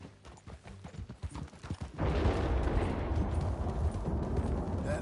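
Horse hooves clip-clop in a quick rhythm in Red Dead Redemption 2, then give way to a dense, steady rumble of galloping that fills the rest of the clip.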